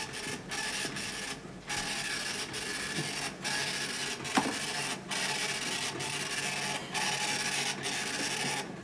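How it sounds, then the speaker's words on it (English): A power drill grinds steadily into a wall, its whining, rasping motor running almost continuously and close by, with a few short pauses and one sharp knock partway through. "The drill's stuck in the wall."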